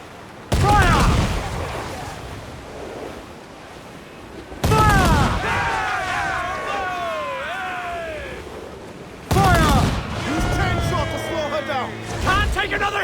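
Ship cannons fire in Assassin's Creed IV: Black Flag as three heavy booming salvos a few seconds apart, each followed by rumbling decay, with shouting voices over the battle.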